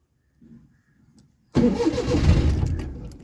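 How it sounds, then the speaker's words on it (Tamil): A Maruti 800's self starter motor cranks the engine and it catches: a few faint clicks, then a loud, abrupt whirring rumble that settles into a running engine sound for about two seconds, close up. "இப்போ செல்ஃப் அடிக்கிறேன்"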